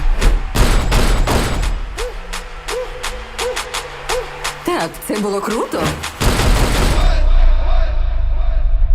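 A rapid volley of loud gunshots fires in bursts over several seconds in a thriller film scene, mixed with booming impacts and ringing debris, with a woman's brief spoken line near the end.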